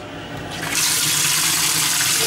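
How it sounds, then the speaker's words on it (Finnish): Water runs from a kitchen tap into a dish while cooking rice, a steady close rushing hiss that swells louder after a moment and keeps flowing, with no voices. "Tonne voisi laittaa nyt sitä vettä."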